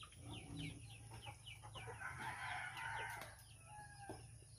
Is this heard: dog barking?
no